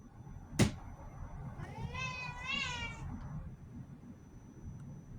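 A house cat lets out one drawn-out, wavering meow that rises and falls over about a second and a half, close and clear, after a single sharp knock and over soft room noise.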